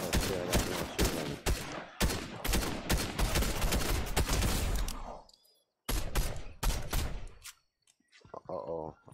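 Rapid bursts of video game gunfire, dense automatic shooting in loud clusters with brief pauses and a near-silent gap, a voice talking over parts of it.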